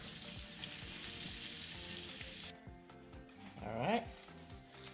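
Sausages fry in a pan with a loud, dense sizzle that cuts out abruptly halfway through, leaving a quieter background with a brief rising squeak near the end.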